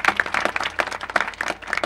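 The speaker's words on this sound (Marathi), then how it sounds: "त्याबद्दल त्यांच्यासाठी एकदा जोरदार टाळ्या वाजवा" Audience at a kirtan at a Datta temple in Beed clapping, a lively irregular burst of many hands, fairly close and loud, with no speech.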